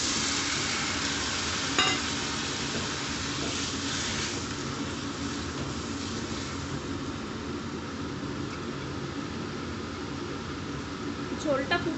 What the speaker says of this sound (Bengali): মশলাটা কষানো হয়ে গেছে, এরপর আমি এটাতে একটু জল দিয়ে দেবো।